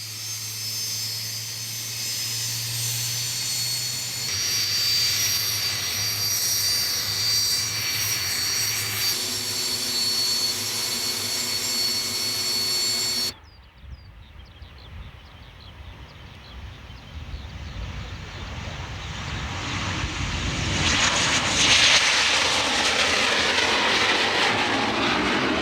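An air force training jet drones loudly and steadily in flight, its engine roar holding a continuous tone before shifting abruptly to a rushing, rising roar that swells toward the end; no talking.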